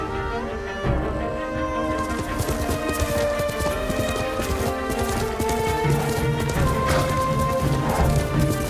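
Rhythmic clip-clop of horse hooves at a steady trot in the video game Ghost of Tsushima, loud and close, layered over a continuous musical background with no voices.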